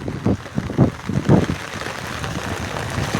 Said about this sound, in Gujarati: વરસાદ કાલ રાતનો ચાલુ છે, બંધ જ નથી થતો।